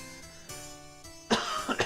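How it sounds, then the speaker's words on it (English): A person coughs during a Final Fantasy IX game stream: a quiet lead-in, then two or three sharp, close coughs in quick succession near the end. "Sorry about the coughing, though."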